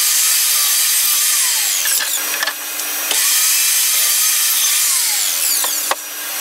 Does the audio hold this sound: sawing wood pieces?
yes